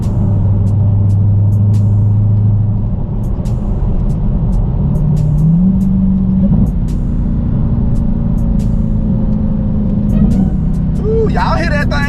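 A 2021 Dodge Challenger SRT Hellcat engine drones loudly and steadily from inside the car while driving with paddle shifting, its pitch stepping up through the gears, with someone talking over it.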